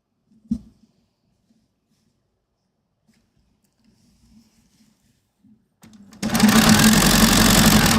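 A domestic sewing machine starts up after near silence and runs steadily and loudly for the last couple of seconds, with faint room sounds and scattered small noises before it.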